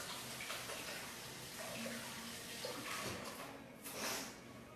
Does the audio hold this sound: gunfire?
no